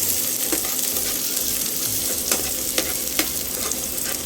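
Onion and garlic sauté in a pan with a constant close sizzle, broken by a few sharp spatula scrapes and stirring knocks, and no one speaks.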